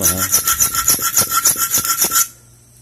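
A needle file rasping across a metal pick clamped in a bench vise, about a dozen quick, even back-and-forth strokes, close and loud, then stopping abruptly.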